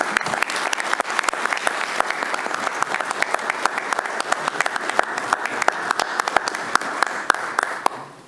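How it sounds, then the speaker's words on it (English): An audience at a city commission meeting gives long, lively applause for a county sheriff's office. A crowd claps close and steady with crisp individual claps standing out, and the applause fades near the end. "Please join me in a round of applause for the Volusia County Sheriff's Office."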